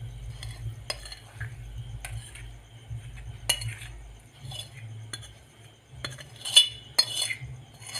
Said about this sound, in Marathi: आता सगळं मी हे मिक्स करून घेते